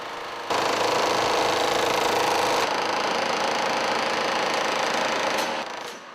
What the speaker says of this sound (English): The chisel makes a double cross cut.